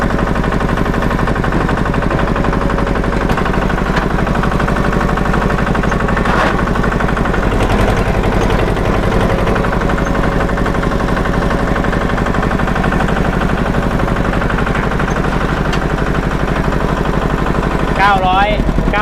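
A used walk-behind rice-field tractor engine runs at a steady loud chugging idle throughout, close by, with someone talking over it.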